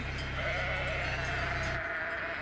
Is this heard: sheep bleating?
yes